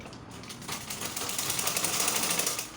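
A sewing machine runs continuous shirring stitches across a smocked top, a steady close mechanical whir with fast needle chatter that builds slightly after the start and holds alone without talk.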